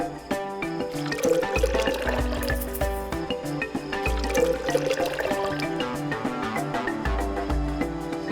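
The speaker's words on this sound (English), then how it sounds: "Better pour some water into the pot next." Water pours into a pot in a mobile video game, a continuous filling and trickling sound layered over steady background game music.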